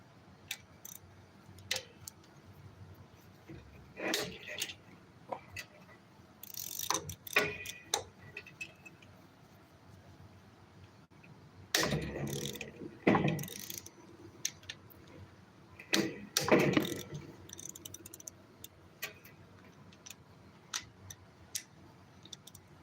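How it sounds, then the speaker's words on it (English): Case bolts on the side cover of a Kawasaki FE290 engine from a John Deere Gator being broken loose with a ratchet, giving bursts of clicking and sharp metallic cracks spaced through the clip, close and fairly quiet, with no talking. "we're going to break all these case bolts loose"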